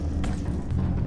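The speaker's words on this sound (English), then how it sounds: "I love this disco grenade." A disco grenade goes off in a video game: a heavy, low, rumbling blast that fills the short moment with dense bass energy, loud and close, with no talk over it.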